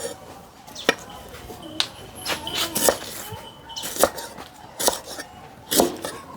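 A knife slices galangal on a board for a Thai salad, giving crisp, irregular taps that quicken into clusters over a quiet outdoor background.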